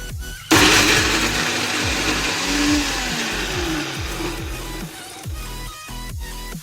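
A mixer grinder whirs loudly and steadily as it blends a raw mango and coconut chutney with turmeric and salt, its motor droning on with slight rises and falls and no voices over it.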